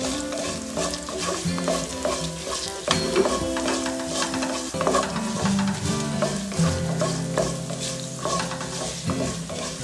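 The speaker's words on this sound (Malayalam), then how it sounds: "നന്നായി അത് പൊരിയാൻ വേണ്ടിയിട്ട് നമുക്ക് ഇങ്ങനെ ഇളക്കി കൊടുക്കാം" Three chopped dried red chillies crackle and sizzle in hot oil as a spoon stirs them, with frequent scraping knocks against the pan; a tonal background hum runs underneath.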